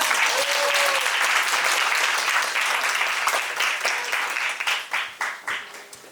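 Audience applause at a school graduation presentation: sustained, dense clapping from a full hall that stays loud for several seconds, then thins into a few scattered separate claps that fade out toward the end.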